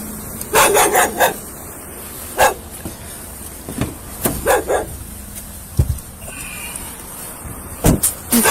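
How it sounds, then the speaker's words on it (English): A white-haired Labradoodle barks frantically in repeated sharp bursts, sometimes clustered two or three together, loud and close, with quiet pauses in between. "a white-haired Labradoodle dog who barked frantically at officers and refused to leave the area"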